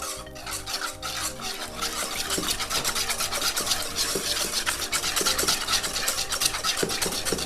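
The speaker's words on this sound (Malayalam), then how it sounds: "2 മുട്ട റെസിപ്പി എടുത്ത് നന്നായിട്ട് മിക്സ് ചെയ്തിലോട്ട് കയറ്റുക" Eggs are mixed into choux pastry dough with rapid, continuous stirring. Close, wet scraping and sloshing strokes repeat in a brisk rhythm, with no voices.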